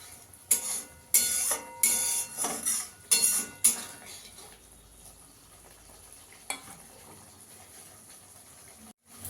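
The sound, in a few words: mustard paste being stirred and fried in a pan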